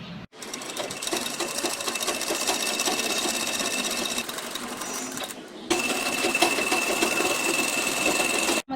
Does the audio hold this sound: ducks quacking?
no